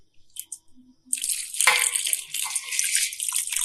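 Hot water pours into a container in a steady bright splashing stream that starts after a few faint clinks and runs continuously to the end, close and fairly loud.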